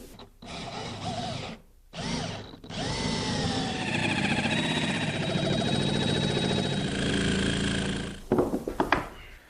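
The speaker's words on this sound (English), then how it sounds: "mark the line of the hole that I'm going to cut with the jigsaw" A jigsaw cuts a hole through a cedar door, its motor buzzing steadily in long runs, loud and close, with brief stops between cuts and a few knocks at the end.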